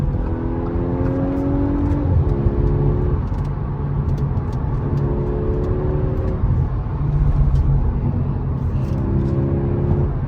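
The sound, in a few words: Audi A5 downshifting, engine revving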